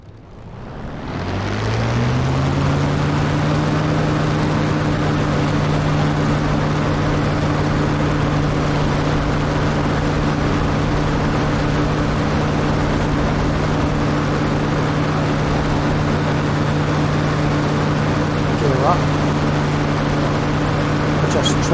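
A simulated aircraft engine in War Thunder throttles up for takeoff, rising in the first two seconds to a loud, steady drone with strong low harmonics that holds unbroken to the end, with no talk.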